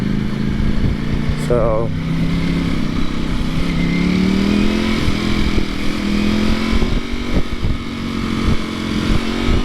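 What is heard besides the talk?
Ducati V4 SP motorcycle engine on a test ride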